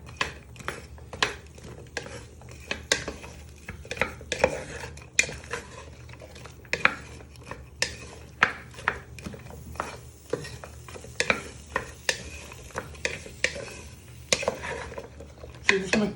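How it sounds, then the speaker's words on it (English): Parsnips stirred and tossed in a pan, rapid repeated metal scrapes and clatters with a light background sizzle, close and continuous with brief quieter gaps. "You want to start giving them a little bit of a stir so they get some colour on them"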